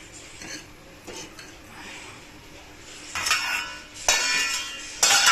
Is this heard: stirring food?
yes